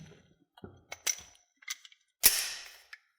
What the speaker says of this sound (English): I'm going to dry fire the gun one time, get used to the trigger